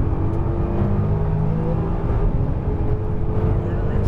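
A Nissan GT-R accelerating hard on the Exotics Racing track in Los Angeles, its engine a loud, continuous, close drone with a steady rumble that holds throughout.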